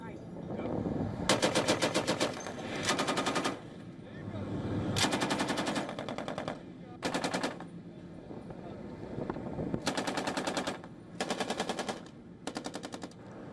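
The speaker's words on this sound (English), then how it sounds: "a video that showed US Marines conducting live fire training on USS San Antonio in the Caribbean" US Marines fire machine guns in live fire training aboard USS San Antonio in the Caribbean: repeated loud rattling bursts of a few seconds each, separated by short pauses, with wind rushing across the microphone between bursts.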